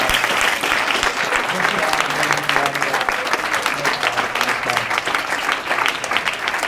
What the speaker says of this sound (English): can we give all 3 of these guys a round of applause?